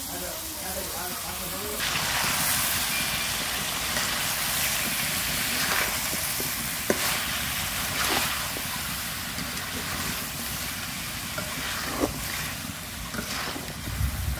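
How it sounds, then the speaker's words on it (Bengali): Chicken meat browning in a pan for a curry, giving a steady, loud broadband sizzle throughout while a person talks over it. "মাংসগুলো লাল লাল হয়ে আসবে এবং কষানো হয়ে যাবে আমার, তারপর আমি ঝোল দিয়ে দেবো।"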